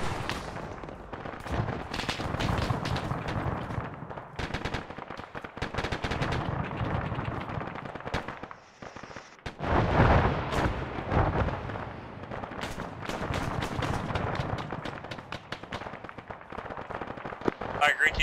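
Loud, dense gunfire and machine-gun bursts crackle close by, with heavy blasts and scattered sharp shots continuing throughout amid a chaotic battle, with voices partly audible.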